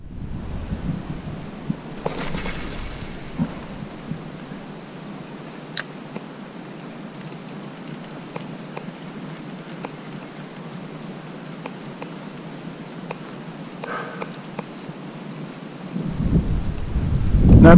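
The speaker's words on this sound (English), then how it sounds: "it's pouring rain" Pouring rain with thunder: a steady hiss of rainfall, a rolling rumble of thunder early on, and a swell of louder rain and wind toward the end, with no voices.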